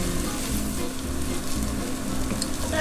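Softened onions fry in butter in a pan, giving a dense, continuous close sizzle with a low steady hum underneath and no voices.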